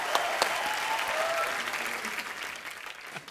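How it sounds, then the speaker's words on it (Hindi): Studio audience at a comedy talk show clapping steadily and fairly loudly for a few seconds, with faint voices underneath. "आप लोग तालियां बजाते रहिए"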